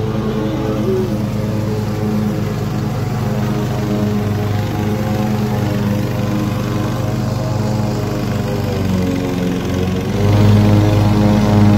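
A small garden tractor's engine runs steadily throughout, a continuous close drone with a low rumble that grows slightly louder near the end, heard during landscaping work with no one talking.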